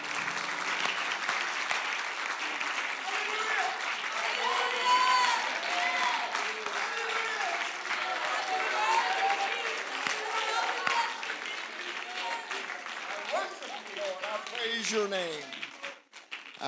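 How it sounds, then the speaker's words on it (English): A church congregation at a Friday night homecoming service gives a sustained round of hand clapping, loud and dense throughout, with voices calling out over it before it fades at the end. "Let's give the Lord a hand clap before we're seated."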